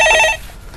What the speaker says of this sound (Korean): 전화 왔습니다.